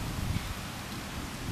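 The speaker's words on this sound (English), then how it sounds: "Okay, we got rain." Light rain during a thunderstorm in Spencer, NY, a soft, even hiss of scattered drops on surfaces, faint and steady throughout with no thunder heard.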